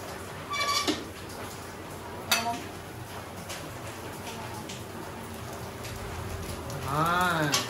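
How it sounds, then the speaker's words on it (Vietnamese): Steady rain falls outside a home kitchen where savory pancakes (bánh xèo) are being fried in two pans, a constant hiss beneath clinks of cookware and brief voices. "Hôm nay là trời mưa nè, mình quay đang trời mưa nè, thấy không? Đó, mưa ở ngoài tí tách."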